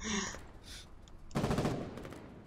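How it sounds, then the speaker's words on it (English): Gunfire in a tank battle in the Foxhole video game: after a quiet stretch, rapid repeated automatic-weapon bursts start at moderate loudness and keep rattling steadily to the end. "Just keep shooting, Danny."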